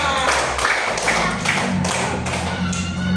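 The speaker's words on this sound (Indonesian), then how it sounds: "Iya, beri tepuk tangan untuk kelompok 3." Classroom clapping for a student discussion group, a handful of people giving irregular, fairly close claps that thump and tap unevenly for a few seconds.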